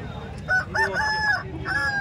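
Fighting roosters crowing at a large open-air rooster market; a close, loud crow with drawn-out harmonic calls rings over steady crowd noise.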